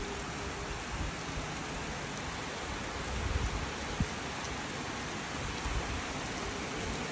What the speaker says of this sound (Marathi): खूप मोठा पाऊस पडतोय